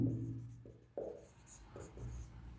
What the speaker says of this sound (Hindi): चलो लॉ लिखते हैं।